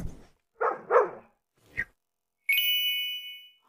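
A dog gives two quick barks followed by a short third one, close and clear, then a bright ringing ding sustains afterward in a quiet room.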